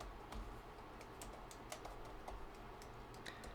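Quiet tapping on a computer keyboard while login details and a network password are entered, a soft run of light, irregular key clicks over a low background hum.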